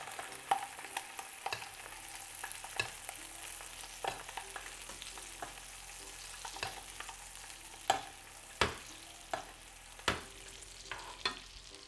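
Skate wing frying in butter in a pan gives off a steady close sizzle with scattered pops and sharp clicks of a utensil against the pan, with no voices.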